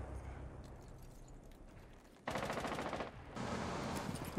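Rapid bursts of gunfire in the Rainbow Six Siege video game, starting with a quieter rumble of game sound and then two loud, dense volleys of automatic shots separated by a brief dip.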